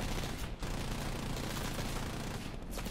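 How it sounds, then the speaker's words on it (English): Two forward-facing aircraft machine guns in a flight combat game fire a steady, continuous stream of rounds, a dense rattling roar at moderate level with brief dips. "All I got are two forward facing machine guns, I think."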